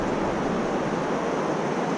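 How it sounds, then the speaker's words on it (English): Steady, dense rushing of water, like rapids or a small waterfall, continuous and fairly loud with no voices. "See the little bit of waterfall rapids right behind me?"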